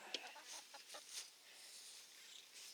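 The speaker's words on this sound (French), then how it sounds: "Toujours une poule dans les jambes." Soft, scattered clucks from a nearby hen in a vegetable garden, a few quick bursts over quiet outdoor background.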